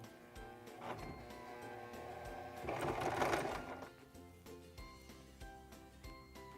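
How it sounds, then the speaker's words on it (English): A Singer Promise 1408 sewing machine stitches a buttonhole in a quiet, even run of rapid needle strokes, its mechanical whir swelling briefly midway before settling, close by with no talking. "then we'll sew 6 to 8 stitches again"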